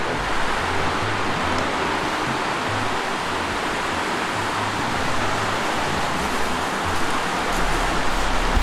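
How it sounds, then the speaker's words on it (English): Steady, dense rushing of water fills the scene without a break, a continuous gushing roar with a low rumble underneath. "found the river flowing there with a gushing sound"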